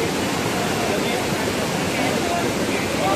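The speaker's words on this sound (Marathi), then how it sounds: "पाऊस खूप जास्त असल्यामुळे पाण्याला खूप फोर्स आहे." Powerful waterfall swollen by heavy rain, a hidden fall with forceful water flow, roaring as a steady, dense broadband rush that fills the whole clip without pause.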